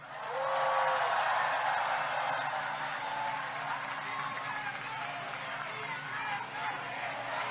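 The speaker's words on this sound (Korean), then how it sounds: "마지막 박수 한번 치세요." A crowd at an outdoor political campaign rally in Gimpo claps steadily, a broad sustained wash of applause heard from a distance that holds for several seconds at moderate level.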